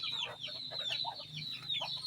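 Several caged chickens being fed cluck and chatter close by, short repeated calls overlapping with a few higher squawks.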